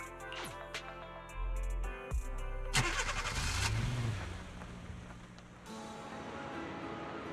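A car engine starts up in the video game Zenless Zone Zero, a short crank followed by a mid-pitched idle and a brief rev, loud and close, with no talk over it.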